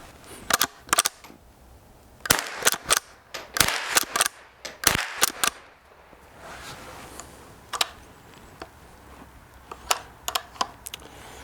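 A Rossi Rio Bravo .22 lever-action rifle fired and cycled outdoors, with a string of sharp close cracks and clicking lever actions in irregular bursts, then a few sparser clicks with pauses between.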